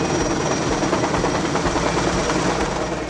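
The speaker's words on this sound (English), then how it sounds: "The auger and other pieces of drilling equipment were moved using a small helicopter." A small helicopter moving drilling equipment at a construction site drones steadily nearby, its rotor chop a continuous rapid thumping under a broad engine roar.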